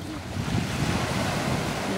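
Sea waves and surf rolling steadily alongside a fishing boat, a broad continuous wash with wind buffeting the microphone throughout, no voices.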